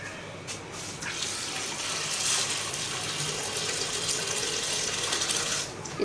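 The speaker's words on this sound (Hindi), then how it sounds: "पानी भी ऐड करेंगे।" Water poured into kadhi in a cooking pot, a steady splashing gush that runs for several seconds, fairly close, with no talking.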